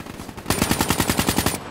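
Automatic gunfire in Call of Duty: Black Ops III multiplayer, a loud rapid burst of about a dozen evenly spaced shots lasting roughly a second, with no talk over it.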